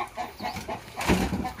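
Free-range chickens of the Dominant CZ breed, kept in a ranging area, cluck softly and repeatedly at close range, a short run of low murmuring calls with a slightly louder burst near the end.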